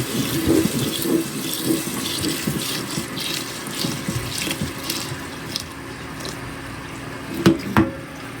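Water runs steadily from a tap into a pot of rice, a continuous splashing wash with a couple of brief clanks near the end.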